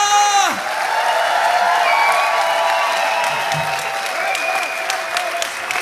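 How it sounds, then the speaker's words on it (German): A concert audience at a German singer-songwriter show applauds and cheers loudly and steadily for the band on stage, with a sustained musical chord fading out at the start and whoops scattered through the dense clapping. "Das ist euer Applaus."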